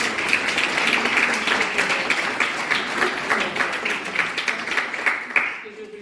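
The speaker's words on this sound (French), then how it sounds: "on applaudit" An audience at a 2025 conference in Luxeuil gives a round of applause, rapid clapping that holds fairly steady, mixed with voices, before fading out.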